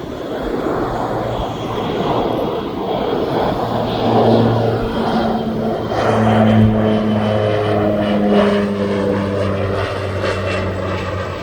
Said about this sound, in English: I'm going to turn it on to this Beechcraft as he's coming in.